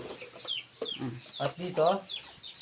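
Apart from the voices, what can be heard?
hens in a backyard coop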